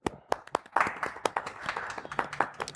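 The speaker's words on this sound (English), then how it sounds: "Go ahead and put up an audience clapping." A small group clapping in scattered, uneven bursts, loud and close, with a few sharp individual claps standing out, on a casual grill-side podcast set.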